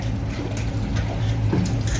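Water runs steadily from a tap, a continuous close splashing rush with no break.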